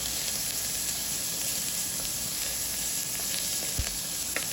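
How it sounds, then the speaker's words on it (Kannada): Onion, green chilli and curry leaves fry in a pan for tomato bath. A steady close sizzle and hiss holds throughout, with faint stirring clicks and occasional small pops. "ಒಂದು ಸ್ವಲ್ಪ ಈರುಳ್ಳಿ ಮೆತ್ತಗಾಗೋ ತನಕ ಈ ಥರ ಫ್ರೈ ಮಾಡ್ಕೋತಾ ಇದ್ದೀನಿ."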